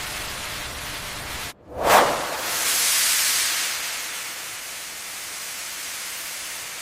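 Steam flows on an instant noodle factory line, a broad steady hiss with a brief drop and surge partway through before settling back into a constant wash of noise.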